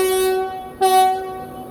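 Class 91 locomotive 91119 sounds its two-tone horn close by as it passes, one loud sustained blast, a brief break, then a second higher note, over the rushing noise of the train.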